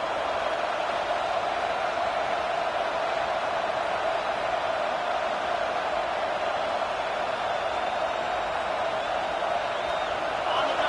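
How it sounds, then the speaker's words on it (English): A football stadium crowd roars in a dense, steady wash of noise that holds unbroken throughout. "The roar of the crowd trying to fuel this defense to keep them pinned in their own end."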